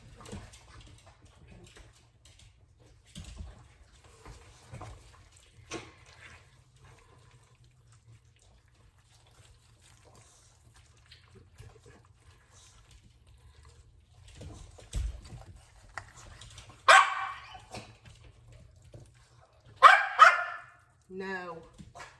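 Three dogs wait at a kitchen counter for scraps of smoked chicken cut from the bone, letting out a couple of short, sharp barks and whines between quiet stretches, with running water and kitchen clatter in the background.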